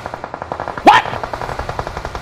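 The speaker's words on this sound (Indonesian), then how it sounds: "Jauh lah, kau nak tembak Ijan tu eh." Gunfire in the mobile battle royale game PUBG Mobile: a steady run of rapid, evenly spaced shots, with a louder, sharper burst near the middle.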